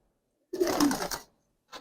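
Young Giribaz pigeons coo close by: one long, throaty burst followed by a brief, softer second call, with no voices.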